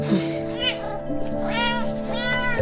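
Cat meowing in a video game, a few drawn-out plaintive meows over steady background music, with speech in between.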